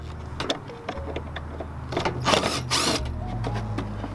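Screws are worked loose in a Honda engine bay, giving light metallic clicks and scraping ratchet-like rasps over a steady low hum, close and moderately quiet.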